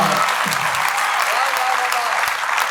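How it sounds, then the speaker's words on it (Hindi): Audience applause at a live kavi sammelan poetry recital, a loud sustained crowd clapping that fills the whole moment, with a faint voice briefly audible beneath it. "अब आपकी आशीर्वाद की तालियां चाहूँगा साहब।"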